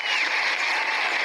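Steady applause welcoming a madam in a cartoon comedy skit, a continuous dense patter of clapping at even loudness for over a second.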